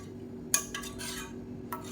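Metal spoon stirring urad dal and green gram batter in a pot, a few sharp scraping clinks and soft swishing strokes, close and quiet over a faint steady background hum.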